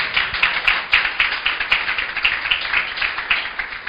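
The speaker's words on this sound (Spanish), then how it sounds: "Aplauda al Señor por eso." A church congregation claps in a steady rhythmic beat, many hands together, moderately loud and somewhat distant with no voices over it.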